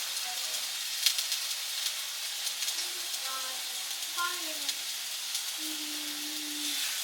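Beef pot roast sears in a Dutch oven with a steady, broad sizzle and hiss, and a voice speaks faintly over it.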